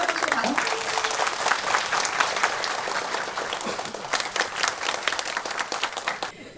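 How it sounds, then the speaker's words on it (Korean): An audience bursts into sustained applause after a signing ceremony at a Gyeongsangbuk-do disaster-safety smart city platform completion event, steady clapping filling the room for several seconds before tapering off, with a faint voice underneath. "큰 박수로 축하해 주시기 바랍니다"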